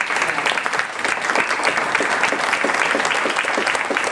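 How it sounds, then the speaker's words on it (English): Loud, dense audience applause for panelists on stage at a panel discussion, continuous clapping close by throughout. "A big round of applause, please"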